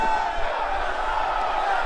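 Arena crowd in the WWE 2K20 wrestling game at the Royal Albert Hall, London, a dense sustained roar of many voices with shouts rising out of it, steady and loud throughout.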